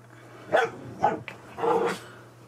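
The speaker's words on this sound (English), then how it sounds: "Those would be my dogs fighting in the background." Dogs scuffle over a stuffed rabbit indoors, giving three loud close bursts of growling barks and yips in quick succession over a low background hum.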